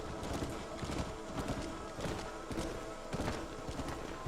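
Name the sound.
horses galloping in Red Dead Redemption video game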